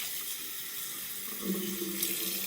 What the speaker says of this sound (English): I'm just going to keep rinsing and rinsing and rinsing and rinsing and rinsing.